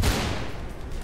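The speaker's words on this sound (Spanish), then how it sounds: "¿Quién coño me está disparando, tío?" A short burst of gunfire in the Mirror's Edge video game, a sharp loud crack followed by a quick rattle of shots that fades within a second, no speech.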